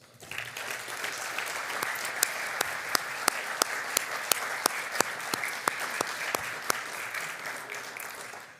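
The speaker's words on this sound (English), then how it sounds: "Please give Jim a round of applause" Applause fills the hall at a 2026 Distinguished Award Celebration Ceremony for Jim, an Iowa State College of Engineering Dean Emeritus, with a dense steady roar of clapping and a few sharp, louder individual claps standing out near the front.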